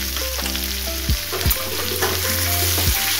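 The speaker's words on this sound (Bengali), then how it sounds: "পেঁয়াজ রসুন কুচিটা দিয়েও ভালো করে ভেজে নেব।" Chopped onion and garlic fry with potato and eggplant in a pan, a steady close sizzle under low tonal hum and a few sliding pitch sweeps, with no talking.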